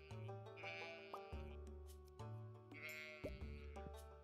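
Sheep in Stardew Valley bleat in two bursts of several quick, wavering calls, close and clear over a quiet game background.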